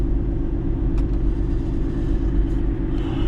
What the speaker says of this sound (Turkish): Kamyonumuzu çalıştıralım da biraz havalarda olsun.